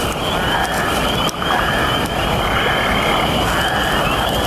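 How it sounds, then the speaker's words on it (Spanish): Oak toads call in a forest, a dense, continuous high-pitched chorus of peeping trills filling the whole stretch, loud and steady with no talking. "Los sapos roble son comunes en estos bosques"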